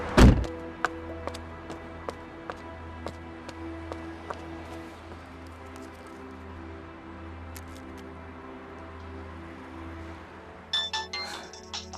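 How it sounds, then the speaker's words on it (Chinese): A phone rings in a quiet interior, its repeated tone pulsing at a steady rhythm after a dull thunk at the start, moderately close and alone, with a short rustle near the end. "接电话吧"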